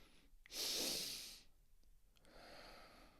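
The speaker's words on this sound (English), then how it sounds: "take an inhale through the nose, all right, followed by another inhale. So like this. And then exhale through the mouth" A person takes two quick inhales through the nose and then breathes out through the mouth. The first intake is a loud, close, breathy rush, a brief second sniff follows, and then comes a softer, longer exhale.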